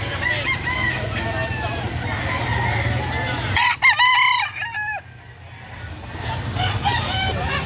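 A rooster crows loudly and nearby at a busy chicken market in Lipa City, Batangas, one clear cock-a-doodle-doo rising over a background of murmuring crowd and other fowl.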